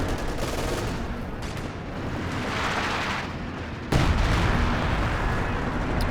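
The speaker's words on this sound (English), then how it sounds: "It must have been a creeping barrage." A creeping artillery barrage rumbles in Company of Heroes 2, dense booming blasts rolling continuously at a distance, with a sharper, louder surge of impacts partway through and no talking.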